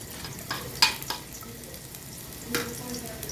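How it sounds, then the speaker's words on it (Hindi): Soft sizzling of garlic frying in a pan for vegetable fried rice, with a few sharp clinks and stirring scrapes over the crackle, no talking. "इसमें डाल दूँगी लहसुन, इसको हल्का सा फ्राई कर लूँगी"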